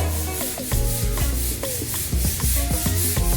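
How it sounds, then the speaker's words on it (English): Someone sands down primed, skimmed plasterboard ceiling joints on a house build, making a steady, loud, close rubbing scrape under a continuous background drone, with no talking. "rubbing it down so it's super smooth"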